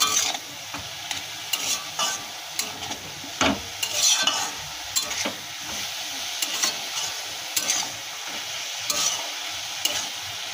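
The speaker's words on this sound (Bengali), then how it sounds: "ধনের গুঁড়ো, মৌরি গুঁড়ো দিয়ে একটু নাড়িয়ে নেব" Ground coriander, cumin and fennel powders stirred in a hot pan for a home-cooked vegetarian curry, with steady close sizzling broken by repeated scraping and clinking strokes of a spatula, and no talk.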